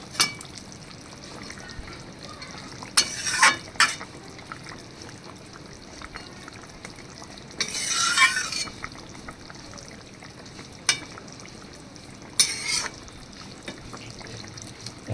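A few short bursts of hissing sizzle break out at intervals over a quiet kitchen background, as pieces of rohu fish hit hot oil.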